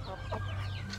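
Several chickens cluck close by while eating feed on a farm, with short overlapping calls and a low steady hum underneath.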